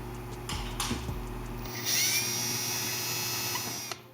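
A few light knocks, then a power drill whirs in a short, steady burst as it drives a screw into a shoe, fairly close.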